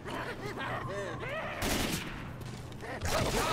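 Burst-fire gunshots from a weapon in Left 4 Dead 2, short grouped cracks set against game ambience and talking, fairly close and moderately loud.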